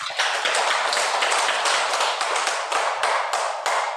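Audience members of a Dan World meditation lecture clap together in a steady, dense burst of applause that stays loud and close throughout.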